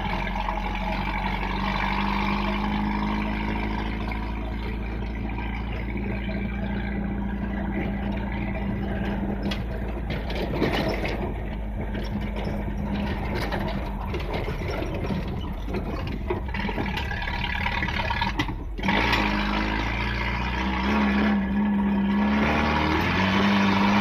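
Car engine running with its exhaust removed, a loud, steady, rough drone with low rumble throughout, briefly dipping near the end as revs change, heard inside the car.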